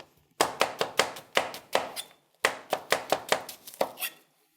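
An onion is chopped with a knife on a board: two quick, even bursts of sharp strikes, about a dozen in all, close and clear with a short pause between them.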